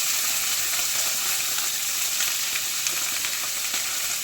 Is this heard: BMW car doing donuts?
no